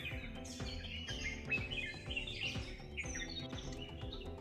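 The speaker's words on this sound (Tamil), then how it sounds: "ரொம்ப சுகமாக இருக்குது இந்த குருவிகளோட சத்தம் கேட்குறதுக்கு." Small birds chirp and tweet at dawn on the Velliangiri hills, a lively overlapping chorus of bright short calls, fairly close and continuous.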